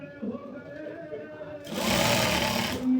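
A sewing machine stitches kurti fabric along a marked margin, its dense whirring run starting partway in and staying loud and close to the end, after a stretch of quieter background.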